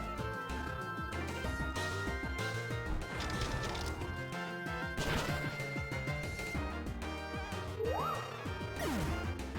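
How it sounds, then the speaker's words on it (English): Repeated crunching smashes of rocks breaking in the Pokemon Black 2 video game. Several loud, sharp impacts come in quick succession over dense game music. "Rocks indeed were smashed."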